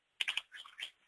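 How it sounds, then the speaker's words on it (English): Quick typing on a computer keyboard that is playing up, a short close burst of several crisp key clicks in two clusters, heard alone with no talk. "Oops, just going to type that in again"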